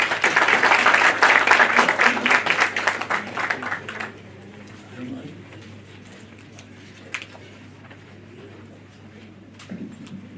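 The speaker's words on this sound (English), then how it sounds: "Ladies and gentlemen, can we please have a warm round of applause?" An audience at a national seminar on healthcare management applauds steadily for about four seconds, then the clapping stops abruptly and leaves quiet room tone with a few faint scattered sounds.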